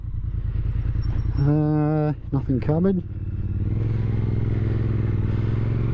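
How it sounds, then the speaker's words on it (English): A 2021 Triumph Street Twin motorcycle engine rumbles steadily while riding, a low continuous throb close to the rider, with someone speaking over it in the middle. "Oh, instantly, I love the sound of the engine."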